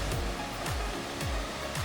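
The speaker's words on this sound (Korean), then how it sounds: "이 나무 사이로 지금 폭포가 떨어지는 게" Suok Falls, a waterfall dropping between trees, as a steady, dense roar of falling water heard alone and fairly loud, with a faint periodic low swoosh rising through it.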